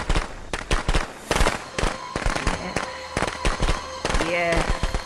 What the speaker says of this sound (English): we had to get that kill off quick before the fireworks started popping